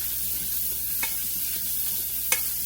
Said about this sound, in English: Get in there and mix it around really good with that butter.